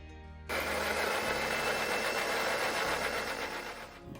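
A mixer grinder starts up abruptly and runs with a loud, steady whirring hum, grinding soaked rice into idli batter, continuous and close with no talk.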